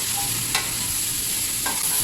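Steady frying hiss of vegetables in a pan, with a couple of brief scraping stirs; no voices.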